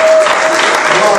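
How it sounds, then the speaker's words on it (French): A church congregation at a Sunday worship service bursts into loud, dense applause and cheering. The sound fills the whole short moment, with voices mixed into the clapping. "Tu peux encore le célébrer avec les cris de joie, avec les acclamations."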